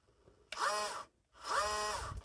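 Motor of an MN78 RC Cherokee crawler whirring like a drill, heard as two short rising-and-falling high-pitched bursts separated by a pause, fairly faint and close with no talking.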